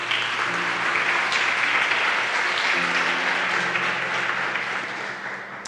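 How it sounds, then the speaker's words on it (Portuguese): A church congregation applauding at a Portuguese-language service, steady continuous clapping from many people that holds evenly and gradually fades toward the end. "Você pode aplaudir a palavra?"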